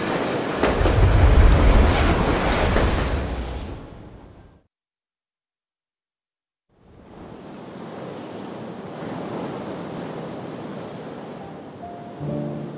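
Waves wash steadily against the shore of Lake Baikal in the video game Metro Exodus. A loud, broad surf roar breaks off into about two seconds of silence, then returns as a softer, even wash.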